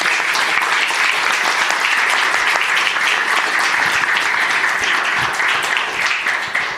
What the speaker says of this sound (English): please, let's give all the panelists a big round of applause.